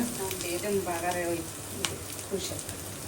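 Onion, green chili and garlic sizzle in hot oil for tempering, a soft continuous frying hiss with small crackles beneath a woman's nearby speech.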